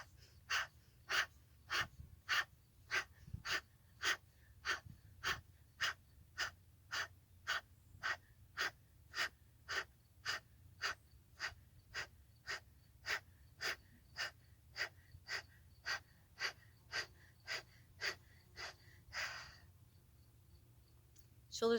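Breathing in and out during shoulder shrugs, close and clear, in a steady rhythm of about thirty short breaths over the span, then a brief pause near the end.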